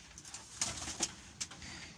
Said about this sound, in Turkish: Yani şu anda kuşlarımı göstereyim.